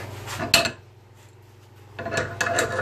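A 1-inch metal exhaust pipe for an Onan Marquis 7000 generator is threaded by hand. A close, harsh metallic scraping comes in two bursts, separated by a quiet pause of about a second.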